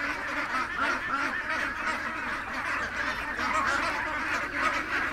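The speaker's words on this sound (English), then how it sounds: "there's a mess of ducks in here" Many ducks gathered in a pen keep up a steady, overlapping chorus of quacks and honks, unbroken and moderately loud.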